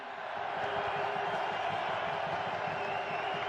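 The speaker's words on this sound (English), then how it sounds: "Listen to that cheer." A large crowd cheers at Lord's as the winning Pakistan team comes up for the Twenty20 World Cup trophy presentation, a steady distant roar swelling and holding for several seconds.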